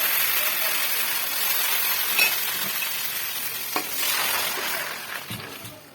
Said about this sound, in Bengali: এখন ডালটা আমি দিয়ে দেব।